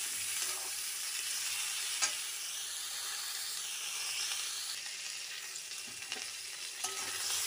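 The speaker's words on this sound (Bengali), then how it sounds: "সব সবজিগুলোকে ভালো করে ভেজে নেব আবারও।" Vegetables and eggplant sizzle and hiss steadily in a pan for a mixed vegetable curry with bori, a soft, continuous frying sound with occasional faint stirring clinks.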